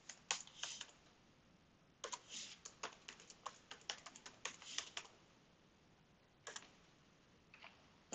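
Quiet, close keystrokes on a computer keyboard as a password is entered, irregular bursts of clicky taps separated by short pauses.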